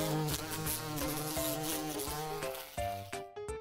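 Bees buzz in a dense, close, droning hum that wavers in pitch, with a few quick swells and breaks near the end and no voices.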